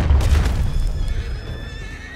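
A horse in the video game Red Dead Redemption 2 gives a loud, close neigh that trails off over about two seconds, with no talking.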